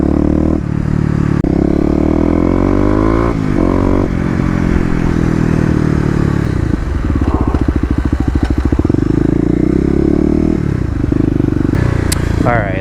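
Motorcycle engine revving during a ride before a tunnel run, loud and close with wind rush, the pitch rising and falling through several throttle blips and a rapid rumbling stretch midway, while a rider talks over it.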